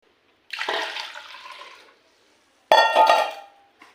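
Water poured into a vessel while making a cardamom home remedy for chest cold, two separate bursts of splashing pour, the first longer and fading, the second louder and ringing, with quiet between.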